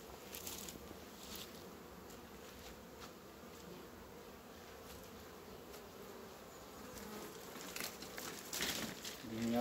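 Honeybees buzz around a strong colony at the hive in spring, a steady, dense drone filling the whole stretch, with a few brief knocks and rustles and a slight swell near the end.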